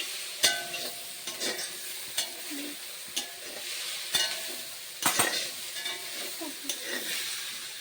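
Potatoes fry in a hot kadai while a spoon stirs them, giving a quiet, steady sizzle broken by regular scraping and clinking strokes against the pan.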